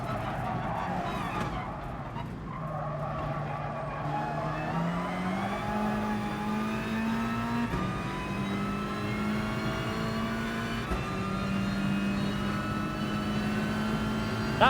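A BMW race car in Gran Turismo Sport accelerates steadily, its engine note climbing through gear changes with a sustained, loud drone alongside other cars' engines.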